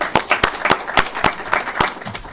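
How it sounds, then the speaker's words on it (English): A small group claps in a board meeting room, brisk separate hand claps in a quick, slightly uneven rhythm, close and fairly loud for a couple of seconds. "Let me give you some applause for you and your whole department."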